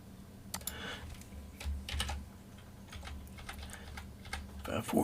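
Someone types on a computer keyboard nearby, producing quiet, irregular bursts of keystroke clicks with short pauses between them.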